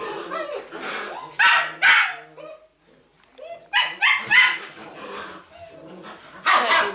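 A dog barks in short bursts, some yips and whimpering between, close by, with pauses of quiet and faint voices in the background.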